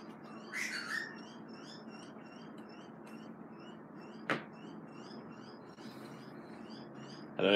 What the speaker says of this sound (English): I don't know if you guys can hear those butcher birds out the back.